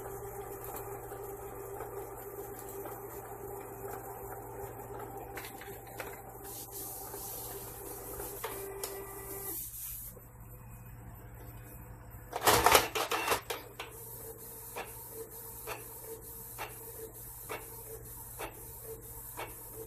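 A Canon iP2770 inkjet printer runs a print job with a steady mechanical whir and hiss, a brief louder burst of clatter partway through, then a run of short rhythmic ticks as the paper feeds, heard close with no talk.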